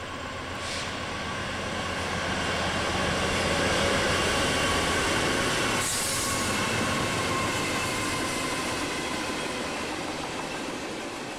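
A train rumbles past in Cresson, Pennsylvania, with steady rolling wheel noise and a rising, then easing roar, no voices.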